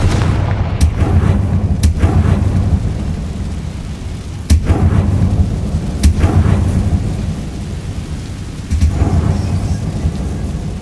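Confringo fire spell explosions in the game Hogwarts Legacy, heavy booming blasts with sharp cracks over a dense rumbling bed, several hits a few seconds apart, loud and close.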